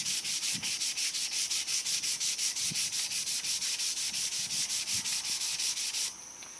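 Wood is hand sanded along the grain with 320-grit sandpaper, giving a steady, rhythmic rasping of quick back-and-forth strokes up close. The strokes stop near the end.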